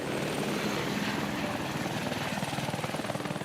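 A water bomber helicopter flies nearby, its rotor chopping in a fast, steady pulse that grows more distinct toward the end, loud with a broad engine roar underneath.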